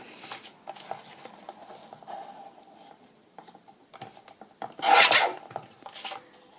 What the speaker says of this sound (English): So I'm going to trim off that bit at the bottom.